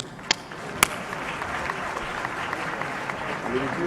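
A summit audience applauds South Africa's trade and industry minister Rob Davies, steady clapping from a large crowd filling the room throughout, with a couple of sharp louder claps near the start.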